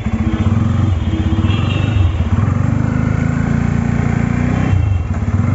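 A 2024 Bajaj Pulsar N250 motorcycle being ridden, its single-cylinder engine thrumming loudly and steadily close by with a slight rise in revs, and no talking.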